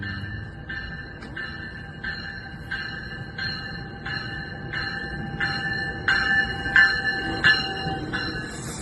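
A small ride-on train at a park in Stouffville, Ontario, rolling along its track with a regular clicking rhythm from the wheels and steady tonal squealing that grows louder toward the end, with no talking.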